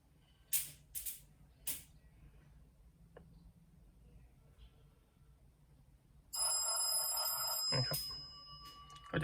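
A couple of short clicks, then an incoming call rings on a 9-inch smartphone-style head unit in a third-generation Honda CR-V, a bright, steady electronic tone continuing for a few seconds, fairly loud.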